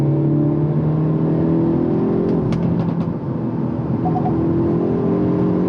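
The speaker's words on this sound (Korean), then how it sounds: "제가 가속 페달을 밟으면서 코너를 돌아 나가는데도" A Hyundai Avante N accelerates hard out of a corner, its engine and exhaust giving a loud, steady drone that holds throughout, with a brief dip partway through and no talking.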